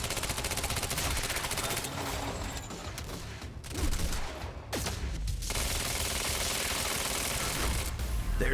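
Rapid gunfire from the video game Quantum Break, loud and dense bursts of shots running almost continuously with brief gaps, layered with game effects and a faint voice underneath.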